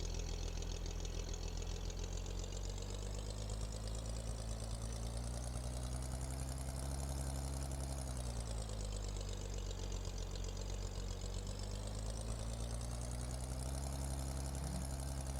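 A combine harvester engine runs steadily in Farming Simulator 2013, a low, droning hum with slow rises and falls in pitch, fairly quiet and alone with no talking.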